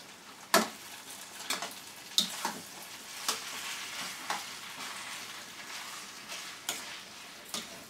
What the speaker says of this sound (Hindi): फ्राई कर लेंगे, मिक्स कर ले रहे हैं अच्छी तरह, जिससे सारे मसाले और सारी सब्जी आपस में मिल जाए अच्छे से